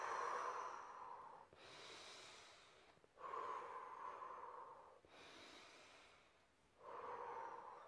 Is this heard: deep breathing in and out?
yes